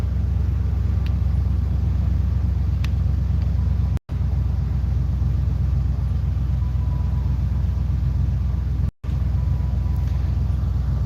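Low, steady engine rumble of idling American cars waiting to depart a car show, continuous and fairly close, with faint wind noise and no talking.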